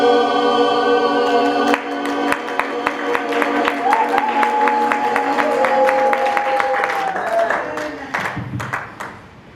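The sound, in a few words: applause for the church choir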